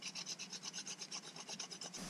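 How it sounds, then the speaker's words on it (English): Ginger grated by hand aboard a widebeam boat, a quick rhythmic series of close, faint rasping strokes, about a dozen in two seconds. "Let's grate the ginger"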